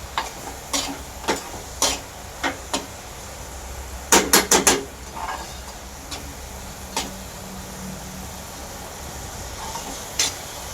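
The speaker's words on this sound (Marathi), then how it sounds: "चांगलं एकसारखं आपण हलवत बसायचं आहे काय आणि भांड्याला लागणार नाही" Spatula scraping and tapping through a thick coconut vadi mixture in a pan: sharp, irregular clicks spaced a second or so apart, with a quick cluster of four strikes midway, over faint background hiss.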